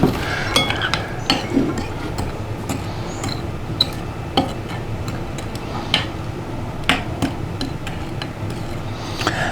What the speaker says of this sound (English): We're going to stir this up a little bit.